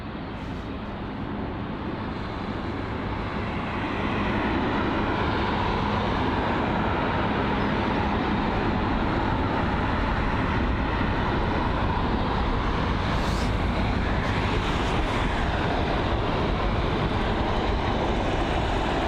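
Jet engines of arriving airliners at London Heathrow airport, a loud continuous roar that swells over the first few seconds and holds steady and close, with a faint whine rising near the end.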